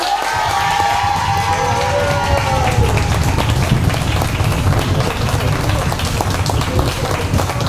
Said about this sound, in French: Merci à tous et je voudrais, sous vos applaudissements, accueillir Alain et Olivier.